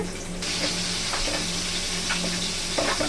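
Mashed fish is worked together by hand with onion, fried chili, salt and raw mustard oil for a pumpkin-leaf bhorta, giving soft, wet squelching and stirring noises that run steadily and close by with no one talking.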